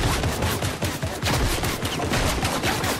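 Dense, continuous gunfire from a Fortnite match, rapid overlapping shots and bursts crackling without pause, loud and close with a chaotic fusillade feel.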